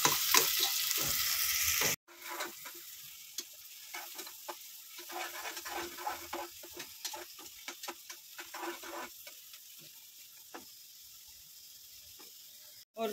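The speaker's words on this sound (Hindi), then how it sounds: "और प्याज को मैं अच्छे से भूनूंगी गोल्डन ब्राउन होने तक" Sliced onions frying in a pot with whole garam masala for mutton biryani, a loud sizzle at first, then a quieter, steady crackle broken by repeated stirring scrapes and clicks, with no voices.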